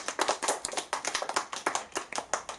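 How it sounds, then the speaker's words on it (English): Audience applause for Peyton at a children's magic birthday party show, a run of quick, uneven hand claps from a small group, fairly close and steady for a few seconds. "Let's give Peyton a big round of applause"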